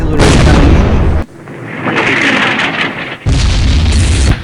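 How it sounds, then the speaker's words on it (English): Heavy artillery barrage in the Vietnam war game Campaign Series Vietnam at Khe Sanh: loud rumbling booms and blasts, with a brief softer lull between two dense bursts. "Now artillery coming in."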